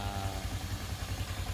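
Yamaha Sniper V3 motorcycle engine running steadily after repair, a close, even low idle hum with light mechanical clatter and no voices.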